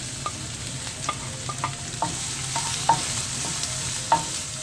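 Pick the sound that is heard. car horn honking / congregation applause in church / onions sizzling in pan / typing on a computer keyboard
onions sizzling in pan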